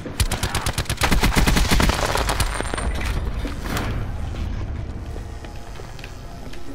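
Rapid gunfire from Call of Duty: Black Ops 4, a dense burst of automatic shots in the first two seconds giving way to a sustained rumbling roar of continued shooting and explosions.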